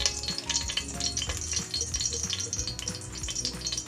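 Cooking oil heats in a hot pan for chicken binakol, sizzling and crackling steadily up close with busy spattering and faint scraping against the pan.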